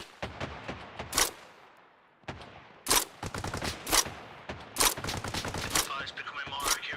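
GPMG machine gun and other gunfire in an Arma Reforger mountain assault, loud close bursts of rapid shots in clusters separated by short pauses, with brief voices underneath.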